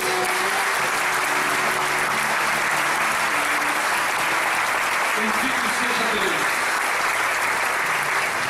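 Church congregation applauding at a Santa Ceia communion service, a steady dense wash of clapping filling the whole stretch, with a voice speaking briefly over it.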